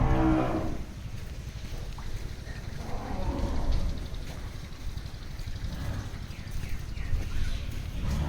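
A six-to-seven-month-old Sahiwal calf moos on a cow farm in Panchagarh. The call is loud and close at the start, then fades into farmyard background noise.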